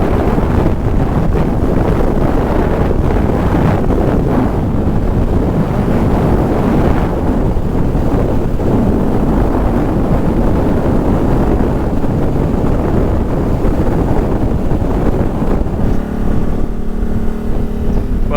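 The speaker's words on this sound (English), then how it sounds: "It's pretty windy." Strong wind roars continuously across the microphone on a dusty, climbing road in Morocco, a loud, steady rumbling buffet with faint engine noise beneath it.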